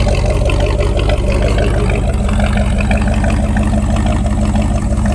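Old Dodge Power Wagon truck's revived engine running close and loud, a dense, steady throbbing rumble with no letup.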